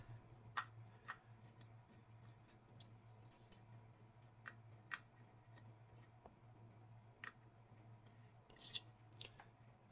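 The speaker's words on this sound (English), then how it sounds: "That clicking noise is when this lever goes back into the brass bushing." Repeated light metallic clicks from the lever of an aluminum RC crawler trailer for 1/18 and 1/24 scale snapping back into its brass bushing, scattered irregularly over a low steady hum, close and fairly quiet.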